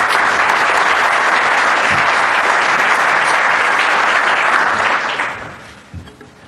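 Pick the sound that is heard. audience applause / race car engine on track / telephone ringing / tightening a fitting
audience applause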